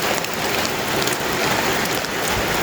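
Steady, heavy rain falls continuously at an evening home in Thailand, a loud, dense hiss of drops on surfaces with no voices.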